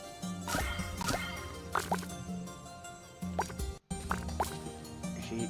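Watering crops in the farming game One Lonely Outpost: repeated soft plopping and dripping water effects in short bursts, set over steady game music with no talking.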